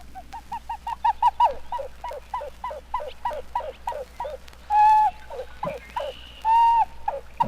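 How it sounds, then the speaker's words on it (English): Pied-billed grebe calling in a field recording, a long run of rhythmic hollow cooing notes that speed up, with two sustained louder whistling tones near the end, fairly close and clear with no talk. "He calls himself the pied-billed grebe, and he sings a duet with himself, contralto and baritone together."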